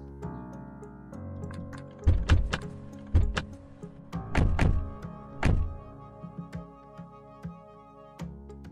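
Car doors shut one after another as several people climb into a car: four or five solid thuds between about two and six seconds, with lighter clicks after, over a steady tonal background.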